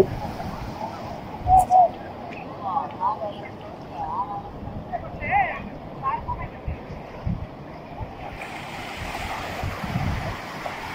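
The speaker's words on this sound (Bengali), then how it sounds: "ঢেউর পর ঢেউ আসছে।" Sea waves wash onto the beach at Cox's Bazar, a continuous rolling surf with gusty wind buffeting the microphone and faint distant background activity.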